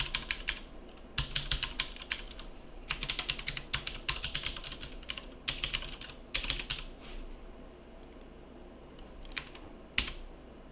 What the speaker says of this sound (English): I'm going to type my email address.